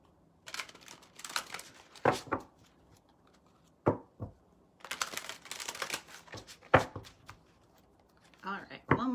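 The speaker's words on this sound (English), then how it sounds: "All right, one more shuffle." A deck of cards is shuffled during a live card reading, with several crisp riffling bursts separated by pauses and a voice talking quietly in between.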